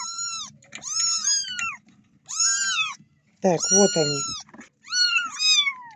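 Several young kittens kept with their mother in a cramped dog carrier give loud, high, repeated meows in overlapping bursts, close to the microphone, while a person speaks briefly.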